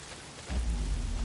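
Heavy downpour in a video game, a steady dense hiss of rain that swells louder partway through with a deep rumbling low end like distant thunder, no voices.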